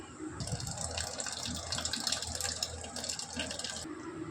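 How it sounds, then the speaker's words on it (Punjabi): Water pours steadily into gram flour for several seconds with a gushing splash, then stops abruptly near the end. "ਹੁਣ ਇਹਨੂੰ ਥੋੜਾ ਜਿਹਾ ਪਾਣੀ ਪਾ ਕੇ ਮਿਕਸ ਕਰ ਦਾਂਗੇ ਆਪਾਂ"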